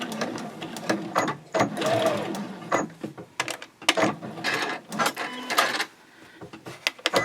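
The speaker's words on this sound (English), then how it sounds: "when I get to that intersecting point there, I'm going to pivot and sew up the diagonal" A sewing machine stitches a fold-flat knitting project bag, pivoting at a seam intersection and backstitching, in short mechanical bursts separated by brief pauses, close and moderately loud.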